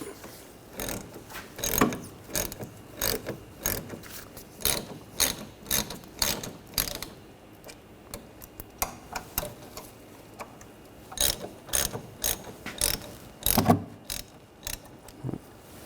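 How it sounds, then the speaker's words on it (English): A ratchet with a 7mm hex socket loosening the rear brake caliper bolts on a 2013-2019 Ford Escape, giving rapid clicking bursts in repeated runs with short pauses between them. The clicks are close and clear, with no talking. "Using a 7mm hex socket, loosen these caliper bolts up."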